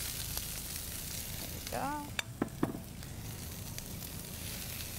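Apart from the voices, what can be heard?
vegetables sizzling as they fry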